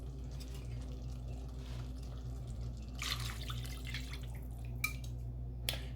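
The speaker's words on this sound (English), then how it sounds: "add in 2 cups of beef stock" Beef stock is poured into a pot of braised beef short ribs, a soft liquid splash and trickle with a few brief bright drips and spatters over a steady low background hum.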